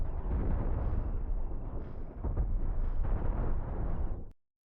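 Big lasers firing from ships in the Cosmoteer space video game, a dense, rumbling barrage of booming blasts that cuts off abruptly at the end.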